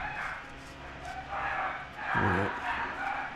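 Puppies yip and bark excitedly in the background of a garage while a steering box is installed on a project truck. The short barks come in bursts, with someone speaking briefly nearby.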